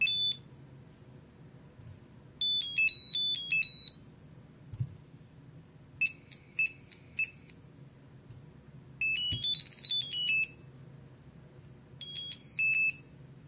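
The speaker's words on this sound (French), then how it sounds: "On peut également changer la sonnerie du tracker. On nous propose 6 sonneries différentes." Several short electronic ringtone jingles, each a bright chiming melody lasting about a second, play one after another with quiet pauses and a low hum between.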